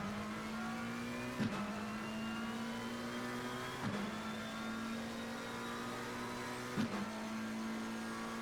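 A Ferrari race car engine in Assetto Corsa Competizione at Spa-Francorchamps, a sustained high revving drone climbing in pitch through the gears with three brief shift dips, loud and steady.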